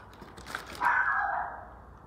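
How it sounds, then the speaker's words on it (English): A dog barks once in a short burst, fairly loud and near against a quiet indoor background, then the sound trails off. "Dog."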